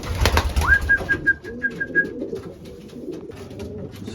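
Racing pigeons coo in a loft, with a bright rising call that holds in short pulses, followed by lower throaty cooing and faint rustling, heard close by.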